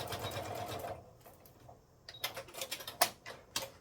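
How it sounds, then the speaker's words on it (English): A sewing machine back stitching a 12 by 14.5 inch laptop sleeve: short bursts of rapid mechanical stitching with pauses between, close and fairly quiet in a still room. "Do a little back stitch here."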